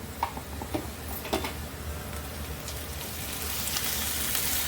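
Onion with ginger-garlic paste fries in oil for a Bengali banana blossom curry, with a soft, continuous sizzle and a few light ticks and stirring knocks early on, then a fuller hiss toward the end.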